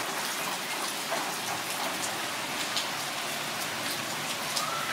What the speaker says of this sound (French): Là c'est un rythme régulier de pluie on va dire.